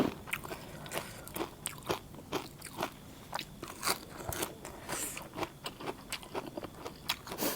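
Crisp, crunchy bites and chewing of blanched water bamboo shoots served with pickled-salmon papaya salad, steady repeated crunches close to the mic with no talking.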